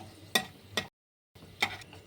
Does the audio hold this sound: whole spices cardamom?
yes